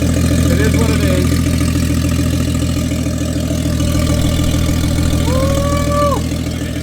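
A Toyota 1JZ engine in a Soarer, fitted with a single turbo kit, idles at its first startup: a loud, rough, steady rumble that runs unbroken throughout, with voices heard faintly over it.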